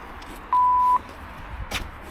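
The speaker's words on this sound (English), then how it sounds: "Are you ready to go beep? This is what we use." A public transport check-in card reader gives a single clean electronic beep at a Dutch train station, steady and moderately loud for about half a second over quiet ambient background.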